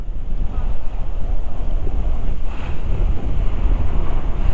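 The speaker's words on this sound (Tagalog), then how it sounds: "Malakas ang hangin." Strong wind buffets a clifftop overlooking the sea, roaring constantly and loudly into the microphone with a dull surf-like rumble beneath, and nobody speaks.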